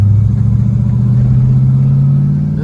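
A 1987 Oldsmobile Cutlass 442 with T-tops runs while driving, its engine giving a steady, close, low hum with a slight rise in pitch and a smooth rumble underneath, heard alone.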